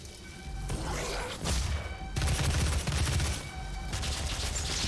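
Rapid micro missile mod fire from a heavy weapon in DOOM 2016, a dense, loud, continuous barrage of booming shots and thuds with no pauses, close and overwhelming.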